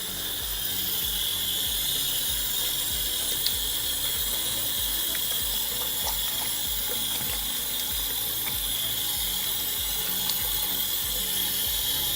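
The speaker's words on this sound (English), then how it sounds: "Wash my hands." A sink tap runs steadily while hands are washed, a constant close, loud hiss of flowing water that holds unchanged throughout with a few faint clinks over it.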